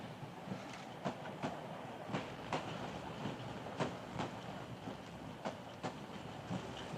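A train runs steadily along the tracks in an old 1941 film soundtrack, with a continuous low rumble and regular rhythmic clickety-clack beats from the wheels passing over rail joints.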